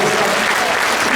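A crowd of pastors at a Busan and Gyeongnam prayer rally breaks into brief, dense clapping, loud and continuous across the short moment.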